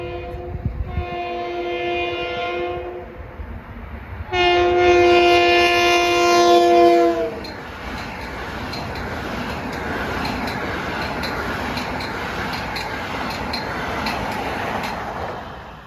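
LIRR M9 commuter train passing at Pinelawn, opening with two loud horn blasts, then a sustained roar and rumble of the electric multiple-unit cars rushing by close at speed.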